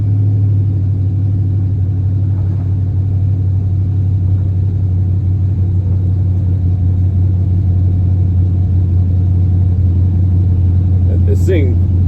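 An old truck engine rumbles loudly and steadily at idle, a deep continuous drone, with a brief voice near the end.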